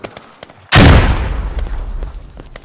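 A grenade detonates in the video game Squad as a sudden loud boom, followed by a long rumbling decay, with faint clicks before the blast.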